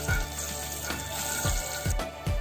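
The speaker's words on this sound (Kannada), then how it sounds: "ಇವಾಗ ಇಲ್ಲಿ ಜೀರಿಗೆ ಚಟಪಟ ಅಂತ ಇದೆ." Cumin seeds spluttering in hot oil for a North Karnataka girmit snack, a dense continuous sizzle punctuated by repeated soft low thumps, close and fairly loud.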